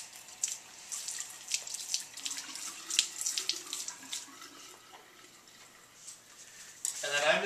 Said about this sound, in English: So I can take out my thermometer and rinse that off really well